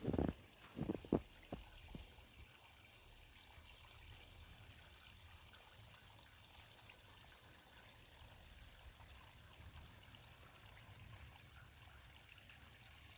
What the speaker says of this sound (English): I found a little bit of a runoff of some running water.